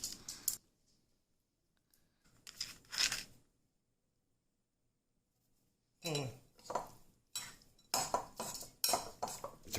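A knife chopping pepperoni on a cutting board: quick clusters of sharp taps, a few spaced strokes early, then a brisk run of chops after a short pause, fairly close and faint, with no talking.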